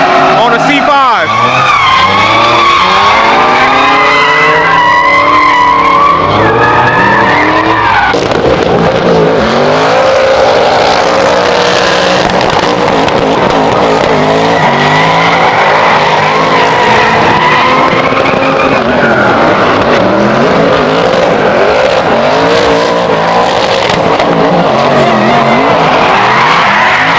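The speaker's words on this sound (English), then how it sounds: "That BMW just went absolutely freaking crazy." BMW car skidding at the Sick Powerfest car event, a loud sustained tire screech over a roaring, revving engine that rises and falls in pitch for nearly half a minute, with crowd chatter mixed in.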